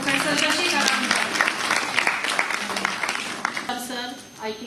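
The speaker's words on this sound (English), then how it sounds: "A big round of applause for Professor Kalli Sohni." An audience at an international academic conference claps for a professor, a dense burst of applause that thins toward the end while people talk over it.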